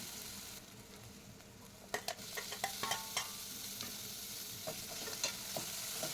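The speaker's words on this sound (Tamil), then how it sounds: "தக்காளியும் சேர்த்து நல்லா வதக்கலாம்." Onion and tomato sauté in a pan for chicken curry with a continuous frying sizzle and a run of quick spoon scrapes and taps in the middle, with no talking.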